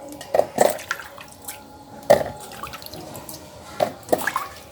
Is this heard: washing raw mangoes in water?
yes